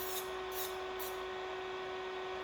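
An electric nail drill fitted with a coarse safety bit runs at steady speed, giving a continuous high whine with a constant pitch, close and loud, with a few faint brief hisses early on.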